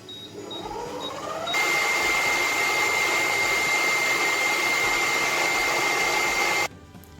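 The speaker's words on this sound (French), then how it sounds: "Je monte donc les blancs en neige ferme, donc au batteur." An electric mixer whips egg whites to stiff peaks for a praline hazelnut Yule log, giving a loud steady whine that rises to full speed after a softer start and then cuts off.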